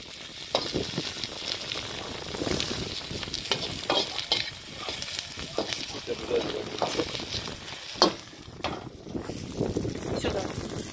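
Onion fries with beef, ginger root, eggplant and mushrooms in a pan, giving a continuous close sizzle broken by stirring scrapes and utensil knocks, with a voice talking over it.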